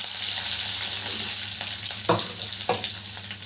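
Curry leaves and garlic cloves frying in hot oil for a weight-loss gravy to serve with chapati, a continuous close sizzle with a few sharp spatters and crackles partway through, no talking.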